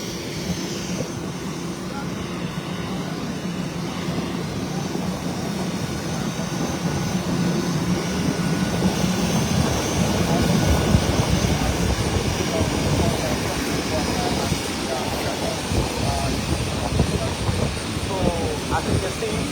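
Aircraft carrying a head of state and his entourage arriving home after a peace summit in Lomé, Togo; a steady, loud engine roar and rumble runs throughout with crowd and voices mixed underneath.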